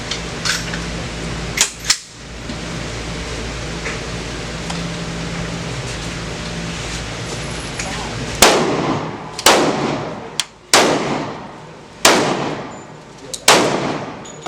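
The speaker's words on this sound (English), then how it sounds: "You shot all your bullets?" At an outdoor shooting range, gunshots ring out as sharp, loud reports, two early and close together and then a run of five spaced blasts with echoing tails over a steady background hiss.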